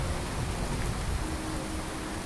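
Steady rain falls in The Elder Scrolls V: Skyrim, a dense, even hiss of drops with low rumbling beneath, continuous throughout with no voices.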